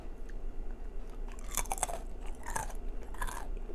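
Crisp, crunchy chewing of pumpkin seed brittle up close, a few sharp bites and crackles in bursts over a low steady background hum, no talking.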